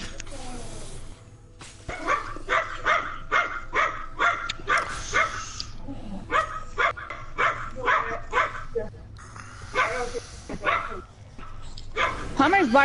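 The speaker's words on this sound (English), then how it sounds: "barking at something because he just heard you open the door" A dog barks in a rapid string of sharp yelps at a door being opened indoors, loud and close, with people talking around it.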